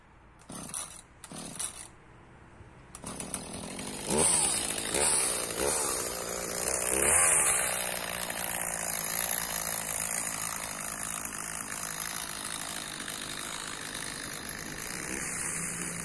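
A chainsaw pruning and cutting up an acacia tree head: a few short sputters and stops at first, then the saw roars up and runs loud and continuous, revving under load through the rest.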